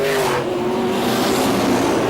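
Race cars in a 2009 European Le Mans Series race, a loud sustained engine roar with a steady high whine as cars pass close by, continuous throughout.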